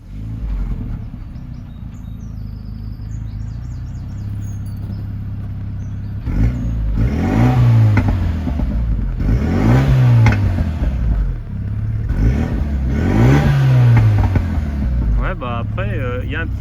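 Stock Renault Megane 3 RS 2.0 with 265 hp, heard from nearby. Quiet idle at first, then several revving sweeps that climb and fall, with a voice talking over parts of it.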